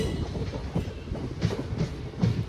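A passenger train on the Ernakulam–Kottayam route eases slowly off a loop line onto the main line, giving a steady low rumble of wheels with a few soft clacks over points, heard close from on board.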